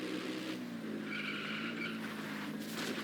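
Car tires screech as a vehicle drifts in the video game Just Cause 3, a sustained squeal over a constant engine roar, fairly faint and without talk.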